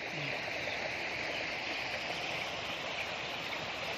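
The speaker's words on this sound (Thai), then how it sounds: "น้ำไหลแรงมาก" Fast-flowing floodwater rushes across a road in a steady, unbroken roar, like a strong current pouring across a surface close by.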